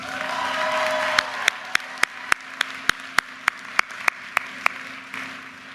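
Audience applause at a University of Maryland commencement ceremony, a steady wash of clapping from a large crowd with a few sharp, regularly spaced claps standing out near the front before it fades.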